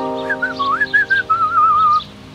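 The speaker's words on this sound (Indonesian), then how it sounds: "dia melihat pria itu bersiul dengan aneh, dan kemudian dia berhenti bersiul" A man whistles a wavering, tuneful melody in short phrases, loud and close, over a low sustained hum.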